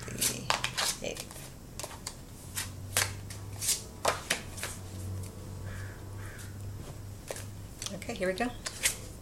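Tarot cards being shuffled, with repeated crisp riffling snaps and flutters in irregular bursts, close up, and a person speaking briefly over them.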